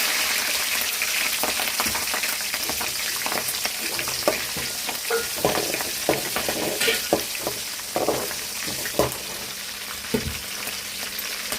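Cumin seeds and green chillies fry in hot oil for an idli dish, giving a steady, close sizzle with crackling pops and occasional stirring scrapes throughout, with no voice.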